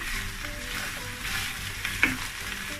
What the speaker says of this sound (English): I'm just going to be frying it for about 5 minutes